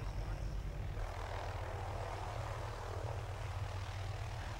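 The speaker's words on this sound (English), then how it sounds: "The second chopper arrives" A helicopter arrives with a steady low rotor and engine drone that holds fairly loud throughout, with a faint voice at times underneath.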